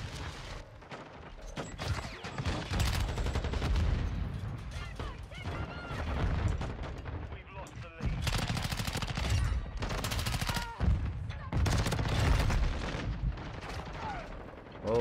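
Sustained automatic gunfire from a light machine gun in Modern Warfare 2 multiplayer, with dense overlapping bursts and loud impacts running almost nonstop, mixed with other weapon sounds.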